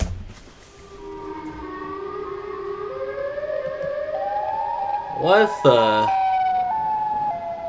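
A person's voice imitates a creepy, broken tornado siren, with a wavering, slowly rising wail that stutters and cracks partway through, loud and close, with a brief exclamation from someone else.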